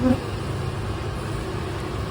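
A dense, steady buzzing of many honey bees close by at an open hive, continuous throughout with a low rumbling undertone.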